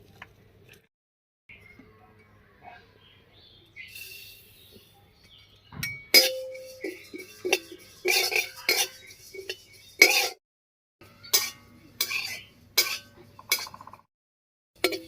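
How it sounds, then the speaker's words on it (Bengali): White sesame seeds dry-roasting in an oil-free kadai, stirred with a metal spoon that clinks and scrapes against the pan in irregular bursts, near and fairly crisp over a faint background hum. "এবারে শুকনো খোলায় একটুখানি সাদা তিল ভেজে নামিয়ে নিচ্ছি"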